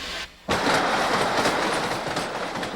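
Steam locomotive 3801 in New South Wales rolling along the rails, a loud close rumble with rhythmic clickety-clack of wheels over joints, starting abruptly after a short quiet moment; no talk.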